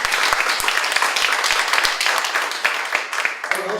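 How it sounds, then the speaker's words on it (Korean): Vigorous applause from a seminar audience after a lecture fills the room, many hands clapping loudly and densely with crisp individual claps standing out, then thinning slightly at the end. "다시 한번 큰 박수 부탁드립니다"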